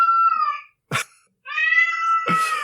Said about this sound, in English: And the cat screaming too